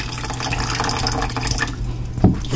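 Water poured into a cooking pot while preparing cabbage, a steady splashing and trickling stream close by with a brief clunk near the end, no talking.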